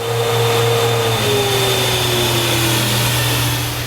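An IMPACTS S210E-40R shot blaster rolls over a concrete floor, producing a loud, steady roaring drone with a whining tone that slowly drops in pitch, close and continuous with no talk.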